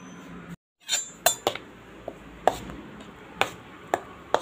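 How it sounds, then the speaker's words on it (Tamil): A spoon clinks against a bowl while masala powders and turmeric are mixed for Afghani paneer base masala, a series of sharp, close metallic taps at irregular intervals with quiet gaps between. "இப்போ இதை நல்லா மிக்ஸ் பண்ணிக்கலாம்."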